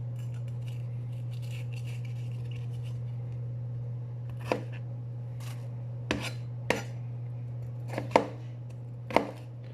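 Vegetables for mirepoix are chopped on a cheap plastic cutting board, a handful of sharp, distinct knife knocks spaced irregularly over a steady low electrical hum in a quiet kitchen.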